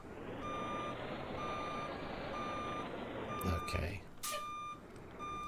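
A heavy-haul Kenworth W900 truck with a Cummins engine reversing in American Truck Simulator, its steady electronic backup beeps pulsing over a loud diesel drone, with a short spoken word and a hiss near the end.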